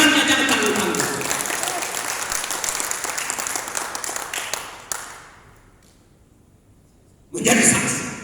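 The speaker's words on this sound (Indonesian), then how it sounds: "Tepuk tangannya jangan tanggung-tanggung." Church congregation applauding loudly for about five seconds, fading to near silence, then a fresh burst of clapping near the end.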